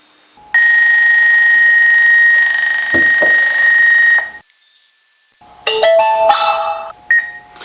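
An eLinkSmart indoor PTZ WiFi security camera, just hard reset, gives out loud electronic alarm-like tones: a long steady beep for about four seconds, a brief pause, then a further burst of shorter, shifting beeps.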